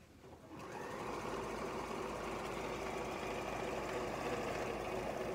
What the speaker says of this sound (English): I'm going to put it into the machine, and I'm going to sew a good quarter inch seam all the way around